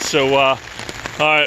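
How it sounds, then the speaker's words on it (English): Heavy rain pours down during Hurricane Isaias outdoors, a dense steady hiss running the whole time beneath someone talking at the start and end. "it's pouring down rain right now"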